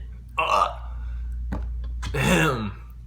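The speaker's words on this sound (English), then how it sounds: "Burping." A person burps twice, a short guttural belch followed by a longer, louder one with a low croaking tone, close up over a faint steady hum.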